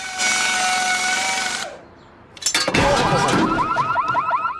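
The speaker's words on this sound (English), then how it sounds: "I didn't know this car had an alarm." A car alarm sounds in a cartoon scene. It starts with a loud steady electronic tone, cuts out briefly, then comes back as a harsh buzz and fast warbling chirps that repeat, with no talking over it.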